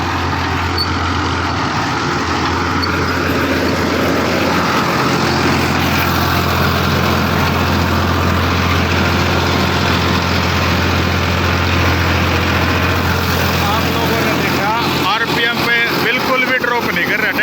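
A 55 hp tractor working at full throttle pulls a 9-foot super seeder, its engine giving a steady loud drone with a low hum throughout, with brief talk near the end.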